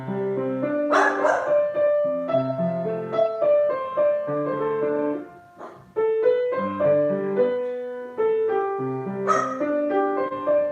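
A dog barks repeatedly and loudly during a piano lesson, sharp barks and yips erupting over sustained piano chords playing a ballad, with no talking.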